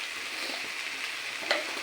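Steamed taro leaves frying in a pan with dried fish, a continuous close, moderately loud sizzle with one brief clink of a spatula near the end, and no voices.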